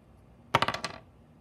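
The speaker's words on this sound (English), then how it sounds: "Then you have the people roll the dice." Dice rattle and tumble across a table while players take their turn in the Professor Noggins board game, making a quick burst of five or six clicks that fades out within half a second.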